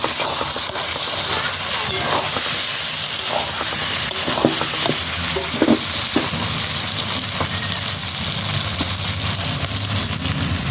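Fried potatoes are stirred into spice masala in a hot pan, a loud continuous sizzle and steamy hiss with scraping and clattering stirring strokes throughout.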